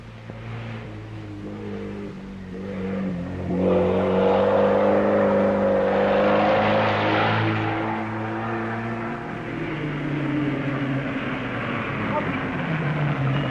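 Big safari rally cars arrive as engines whir and rise in pitch, a swelling mechanical drone that builds and fades, with someone talking over it.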